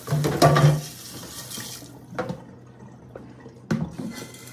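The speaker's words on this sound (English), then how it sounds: "now we're going to go and drain the ground beef" Liquid pours and splashes loudly into a sink as ground beef is drained, followed by a couple of softer drips and clinks, close by with no talk.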